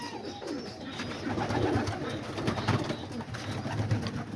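Pigeons coo softly and continuously in a backyard cage, their low murmuring calls overlapping over a steady ambient background.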